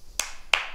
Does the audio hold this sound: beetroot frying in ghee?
no